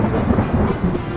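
Rain and rolling thunder in a D&D-style isometric fantasy role-playing game, a dense steady downpour with low rumbling throughout, no voices.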